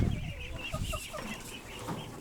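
Young Orvia and Blue Favorite ducks kept free-range on a farm give faint, soft calls in short scattered bursts over quiet background noise.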